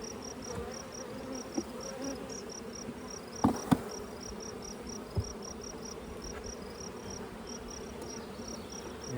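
Honey bees buzzing steadily as brood frames are shaken over a hive while splitting a colony, a dense, continuous drone with a few sharp knocks of wood, no talk.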